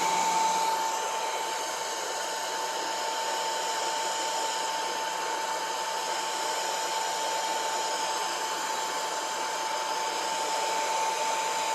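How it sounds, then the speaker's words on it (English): A heat gun blows steadily on the wood trim of a Triumph Spitfire dashboard, producing a constant loud whine and airy rush close by from start to finish, with no talk. "get the heat gun and see what we can accomplish"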